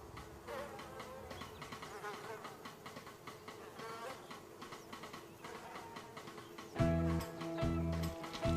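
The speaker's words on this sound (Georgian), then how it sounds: "ფუტკრები. ფუტკრები." A swarm of bees buzzes in a continuous dense hum, and a deeper, louder droning swell rises near the end.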